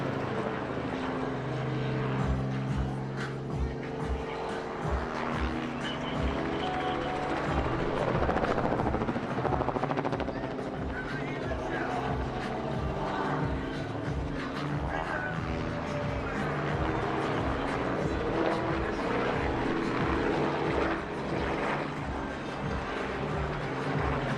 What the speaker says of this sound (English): the R-44 has been the world's best-selling general aviation helicopter every year since 1999